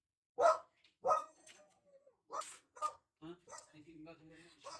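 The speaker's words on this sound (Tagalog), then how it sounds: "The dogs are so noisy." Several dogs bark at a distance, a few short, faint barks spaced out over a few seconds, with quieter yips and whines in between.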